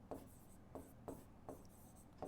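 Chalk or marker strokes on a board during a maths lesson, five short scratchy strokes at a fairly even rhythm, close and quiet, with no voice over them.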